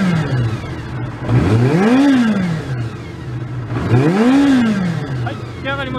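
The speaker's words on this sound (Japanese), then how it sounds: "ではエンジン始動していきます。" A Kawasaki Zephyr χ motorcycle engine with a Moriwaki collector exhaust cranks and catches, then revs up twice in rising-and-falling surges, loud and close, with a steady idle between.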